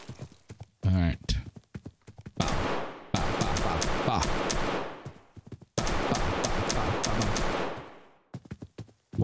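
SMG gunfire in the video game Karantiin comes in long rapid automatic bursts, loud and close, separated by brief gaps with scattered single shots and clicks.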